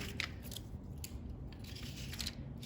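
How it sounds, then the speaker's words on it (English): Scissors snipping through paper up close, several quick crisp cuts over a soft steady background hiss, with no one talking. "if you find that you need to take some off, just grab your scissors"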